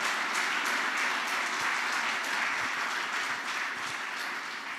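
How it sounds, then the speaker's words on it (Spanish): A church congregation applauds in praise, a steady wash of many hands clapping throughout, fairly loud and even, with no voices standing out. "Un aplauso al Señor"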